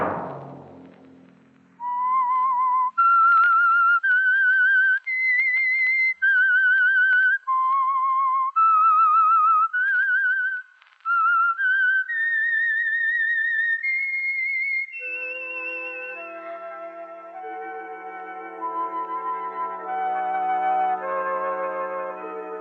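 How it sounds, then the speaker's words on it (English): A lone whistler carries the eerie radio-show theme tune, clear sustained notes rising and falling in short phrases, then backed by soft orchestral chords toward the end. "Let that whistle be your signal for the Signal Oil program, The Whistler"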